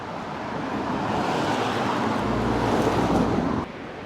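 Strong wind gusting through the Loup gorges in the Alpes-Maritimes, a loud continuous rushing buffet with a heavy low surge midway before easing off.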